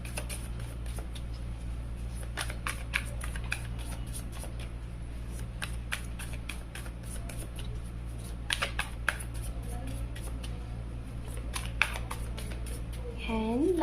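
Tarot cards are shuffled by hand, giving a run of soft flicking and riffling clicks over a steady low hum, with a brief voice near the end.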